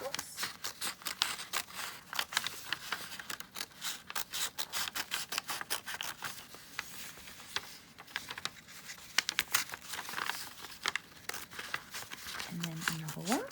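Scissors snip repeatedly through paper at close range in a craft workshop making a fish, a brisk series of sharp crisp cuts with brief pauses and some soft rustling.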